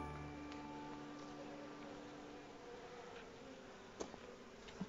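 Faint, steady buzzing of bees at a nucleus hive hums throughout, with a couple of soft clicks near the end.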